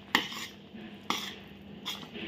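A spoon stirs dal and jaggery puran in a pot, three sharp metal clinks against the pot at a slow, uneven pace, with soft scraping between them, faint and close.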